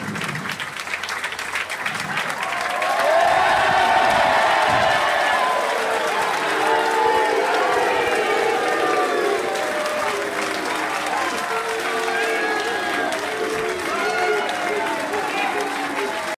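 Crowd applause at a football club's new signing presentation, with the team mascot clapping along, sustained and dense, while a voice speaks over it.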